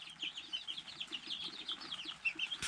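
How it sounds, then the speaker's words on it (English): A flock of nine chickens, with two ducks nearby, cluck and chatter continuously at moderate distance, a busy overlapping sound, ending with a brief sharp noise. "We got 9 chickens here and 2 ducks"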